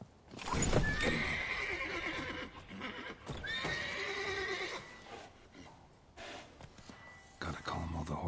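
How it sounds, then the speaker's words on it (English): Horses in The Witcher 3: Wild Hunt whinny loudly several times over a steady clip-clop of hooves, with restless snorting and shuffling throughout. "Gotta calm all the horses before they wake the guards."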